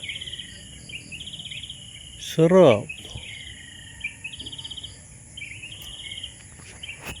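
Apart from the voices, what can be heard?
birds singing at a campsite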